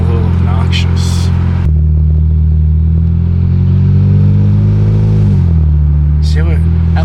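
Infiniti Q60 with a new aftermarket exhaust cruising at low speed around 25 mph, a loud, steady low engine drone held near 2000 RPM that dips briefly as the transmission shifts, with faint background noise.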